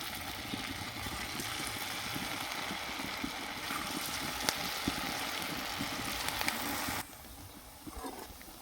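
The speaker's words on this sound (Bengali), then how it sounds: "এবার তেলের মধ্যে আমি আস্তে এটা এভাবে দিয়ে দেবো।" Semolina chops fry in hot oil over medium heat, a steady close sizzling hiss that runs evenly for about seven seconds before dropping to a quieter bubble.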